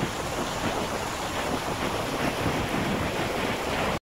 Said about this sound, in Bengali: জলটাকে দেখুন কেমন বয়ে যাচ্ছে